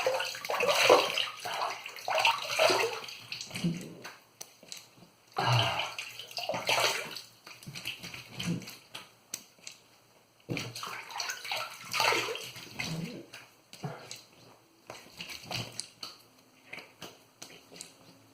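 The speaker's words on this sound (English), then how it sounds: "You rinse that really quick to feel the rest of the stubbles." Water splashes as a Merkur 34C HD safety razor and a freshly shaved face are rinsed, in three or four close, vigorous bursts of running and sloshing water separated by brief lulls.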